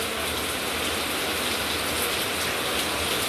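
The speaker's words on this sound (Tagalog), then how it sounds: "Lakas ng ulan." Heavy rain pours down in a dense, steady hiss that fills the whole stretch, loud and unbroken with no voices over it.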